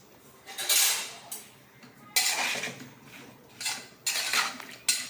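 A spoon stirs an okra kadaiyal dish in a metal pot: repeated scraping and clinking strokes in four or five distinct bursts separated by short pauses, fairly close and loud.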